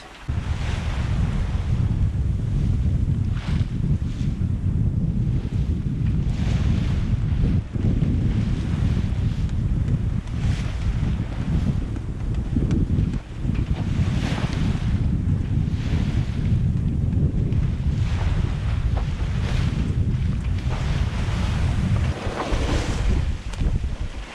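Steady wind roars over the open ocean aboard a sailing boat crossing the Gulf Stream from Canada to Bermuda, with waves surging and hissing against the hull, loud and continuous with buffeting gusts on the microphone and no voices.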